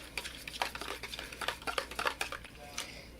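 Spoon scraping and clinking against a bowl while whole milk powder is stirred into a pan pizza dough mixture, a quick run of light, close taps and scrapes.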